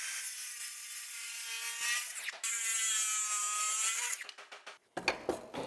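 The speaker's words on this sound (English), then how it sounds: "you can take your circular saw and kind of cut this out to the best of your ability and just leave the line" A circular saw cuts through wood for a skateboard rack, a loud close whining buzz under load that stops abruptly, then restarts briefly before clattering handling noises.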